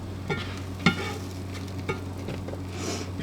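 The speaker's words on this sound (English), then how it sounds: "So the cinnamon roll French toast experiment is frying up." Cinnamon roll French toast sizzles softly in a pan under a steady hiss, with a few sharp scrapes and clinks of a utensil; no one speaks.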